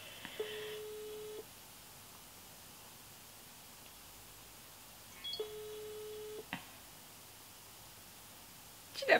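Outgoing ringback tone on an unanswered phone call: two long, steady tones several seconds apart over faint line hiss, with a sharp click at the end.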